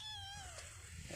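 A pet cat gives a single short, faint meow with a falling pitch, heard close against a quiet outdoor background with no talking.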